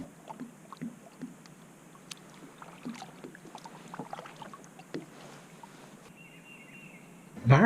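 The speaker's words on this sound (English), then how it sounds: "we're going to go ahead and paddle down to the end of this hole while we're trolling" Soft water swishes and light dripping from a kayak being paddled across a lake while trolling, faint and close against a steady outdoor background.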